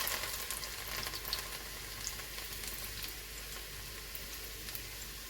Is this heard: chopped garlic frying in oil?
yes